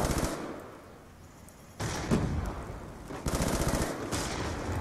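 Automatic Type 25 assault rifle fire in Black Ops 2 multiplayer crackles in sharp rapid bursts, with quieter gaps between three main volleys.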